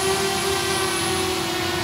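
A small hand-controlled drone hovers nearby, its rotors giving a loud, even whine with steady tonal hum and no pauses.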